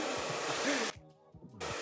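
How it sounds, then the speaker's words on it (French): A hair dryer blows on hair being brushed at the same time, a steady close whirring airflow that cuts out briefly near the end before starting again. "Avec un sèche-cheveux, elle va sécher et elle va brosser en même temps."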